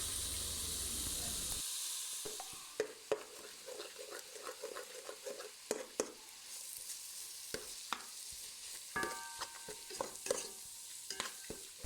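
Eggs, carrots and chopped leeks fry in a pan with a steady hiss of sizzling, broken by sharp clinks and scrapes of a utensil stirring, close and moderately loud.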